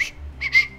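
A short two-note whistle from the Roblox game Lumber Tycoon 2, a thin high tone followed by a louder second burst, heard alone and fairly close.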